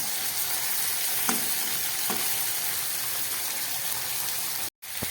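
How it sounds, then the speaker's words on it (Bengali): Salted brain from pond crabs fries in a pan with a continuous bright sizzle and a few soft pops, cutting out for a moment near the end. "এই ঘিলুটাকে আমি এখানে একটু নুন মাখিয়ে নিয়েছি, একটু ভেজে নেব এক পাশে দিয়ে।"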